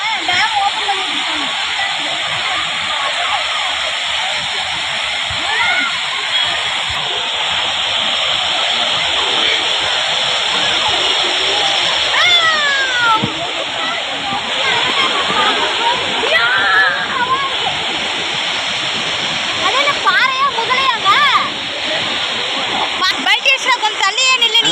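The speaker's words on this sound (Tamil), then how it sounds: "அங்கே பாருங்க டேம் திறந்து விட்டுருக்காங்களாட்டுக்குது" Water rushes loudly from the opened gates of Sathanur Dam, one of Tamil Nadu's largest dams, making a continuous roaring torrent heard from nearby, with voices talking over it.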